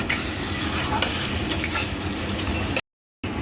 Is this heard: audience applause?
no